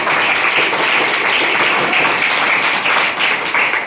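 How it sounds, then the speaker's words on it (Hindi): Students in a classroom give loud, dense applause, a continuous roar of many hands clapping together that holds strong throughout with slight swells. "इसके लिए एक बार जोरदार ताली बजाइए।"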